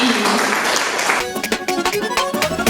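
An audience applauds Alik Kasumov, leader of a performing ensemble, at a literary gathering; the crisp clapping breaks in after a stretch of louder sound and carries on to the end, with tonal sounds mixed in.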